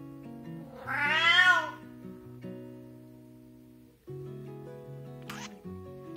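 A cat lets out a single loud, drawn-out scream-like meow near the start, alone against quiet background tones, followed by a brief small rustle.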